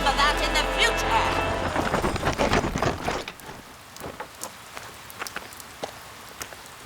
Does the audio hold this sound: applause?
no